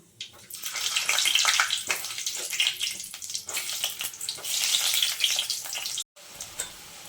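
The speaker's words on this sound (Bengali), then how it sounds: "এখন আলুগুলো ভেজে নেব।" Steady hiss and crackle of potatoes frying in hot oil, loud and close, with occasional stirring scrapes and a brief cut near the end.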